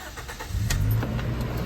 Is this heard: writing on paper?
no